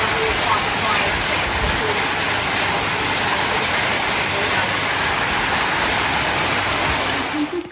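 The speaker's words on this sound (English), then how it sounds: "We've got a hail going now." Hail falling steadily outdoors, a dense, continuous broadband patter that stays loud and even throughout with no voices, easing off slightly at the very end.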